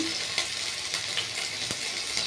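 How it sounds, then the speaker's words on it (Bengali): Nigella seeds, curry leaves and grated ginger sizzle steadily in hot oil, a continuous close frying hiss broken by a few sharp crackles and stirring scrapes, with no talking. "কালো জিরে আর কারি পাতা দিয়ে, তারপর আদা গ্রেট করা দিলাম"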